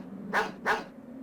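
Two short dog barks from the Mega Man Legends game, spaced about a third of a second apart, over a low steady background hum.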